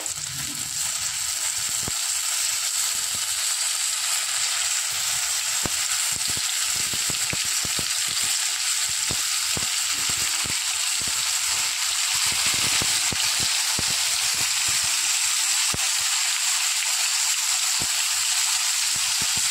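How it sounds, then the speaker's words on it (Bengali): Marinated whole lote (Bombay duck) fish fry in hot oil over medium heat, giving a loud continuous hiss and crackle with fine popping spatters that hold steady throughout, with no talking. "এবার এক এক করে মাছগুলো আমি ভেজে নেব, আর মিডিয়াম আঁচে ভাজবো।"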